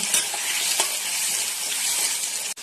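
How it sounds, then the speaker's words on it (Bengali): Steady, loud sizzling of turmeric-coated potatoes frying in hot oil, with a few faint stirring scrapes, cutting off abruptly near the end. "এবার আলুটাকে খুব ভালোভাবে ভেজে তুলে নেব"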